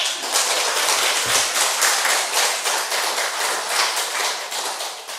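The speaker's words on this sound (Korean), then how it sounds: "저 박수 좀 쳐주세요." A church congregation claps together during a Sunday worship service, a dense, steady wash of many hands sustained loud and close throughout, with no talking over it.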